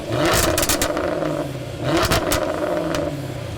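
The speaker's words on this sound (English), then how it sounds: "That glorious noise is totally on purpose, the result of thousands of hours spent tuning this exhaust system." A 2016 Jaguar F-Type R sports car engine revs hard twice, its tuned exhaust roaring and crackling close by with a growling, throaty tone between the bursts.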